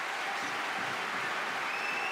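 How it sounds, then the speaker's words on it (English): At a table tennis world championship semifinal, a large arena crowd gives Ma Long a sustained round of applause, a dense, even wash of clapping that holds steady throughout. "That's a fabulous response, isn't it, from the crowd?"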